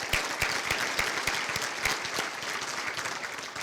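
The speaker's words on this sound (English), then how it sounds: "Let's give them a round of applause." A banquet audience at a university scholarship ring ceremony applauds a championship bowling team, with sustained clapping and some distinct close claps standing out, fairly faint overall.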